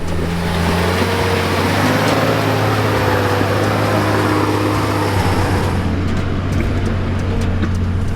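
A turbo Barra-engined Toyota Land Cruiser with a rear locker crawls up a steep hill of loose shaly rock and step-ups in first gear low range, its engine holding a steady loud drone with a deep low hum throughout.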